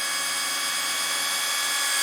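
A cordless portable high-power pressure washer runs its pump steadily, a loud, constant high-pitched motor whine with no break and no voices.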